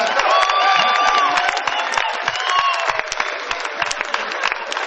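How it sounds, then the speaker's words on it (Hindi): Crowd at a kavi sammelan poetry gathering during Taj Mahotsav claps and cheers loudly and close, sustained applause with a few whistles and shouts running throughout. "ताली वाली बजा दो यार"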